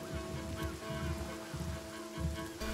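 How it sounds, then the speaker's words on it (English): Steady rain conjured by a rain scroll in the video game Divinity: Original Sin, a continuous hiss of falling drops filling the whole clip at an even level. "It's a scroll. There's a rain scroll."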